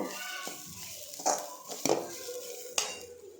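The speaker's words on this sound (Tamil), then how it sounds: "தேவையான அளவு தேங்காய் துருவல் எடுத்துக்கலாம். அதை நல்லா வறுக்கணும், கருகிடக்கூடாது." Grated coconut dry roasting in a pan, stirred so that a few distinct scraping strokes break a low, quiet background, with no voices.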